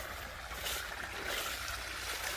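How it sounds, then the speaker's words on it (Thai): Water rushes strongly along a farm canal in Thailand during the dry season, a continuous, fairly loud broadband roar with no voices over it. "นี่ น้ำไหลแรงเลย"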